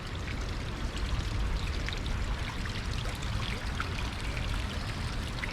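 Polluted water pours steadily over the bank of a creek, a loud continuous rushing splash with no pauses.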